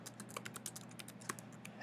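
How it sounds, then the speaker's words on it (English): Quick, light keystrokes on a computer keyboard while composing a blog post, an irregular patter of soft clicks heard close up in a quiet room. "And then I'm ready to start typing."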